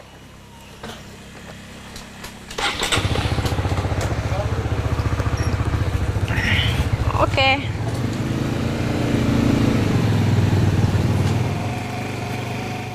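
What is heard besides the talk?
motorcycle taxi starting and riding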